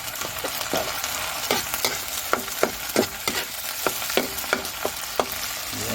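Sardines being crushed and stirred in a frying pan over a sizzling base, with a steady series of sharp scraping taps from the utensil against the pan, close and alone without speech.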